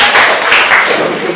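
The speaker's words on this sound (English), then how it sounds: "please, you can clap" An audience claps together in steady, dense applause at a policy lab talk on African philanthropy, a brief continuous wash of hand claps with no pauses.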